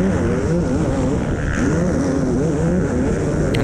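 A 2020 KTM SX250 two-stroke dirt bike races around the Leisure Lakes motocross track. Its engine snarls loud and close, rising and falling in pitch through repeated rev sweeps as it shifts and accelerates.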